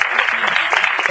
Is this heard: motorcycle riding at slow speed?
no